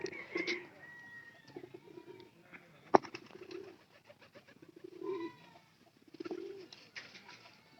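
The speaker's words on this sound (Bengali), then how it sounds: "পায়রাটার ডাক দেখেন" A pigeon coos close by in soft, low, repeated phrases, with a sharp knock midway and faint chirps and rustling around it.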